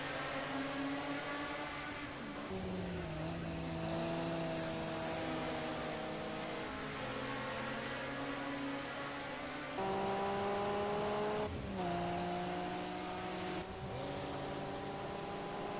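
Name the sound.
4-wheel drive race cars drifting at Donington Park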